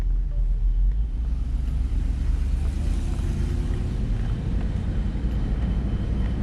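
Mercedes R129 roadster driving at speed and shaking, a steady heavy low rumble of engine and road noise with no talk over it.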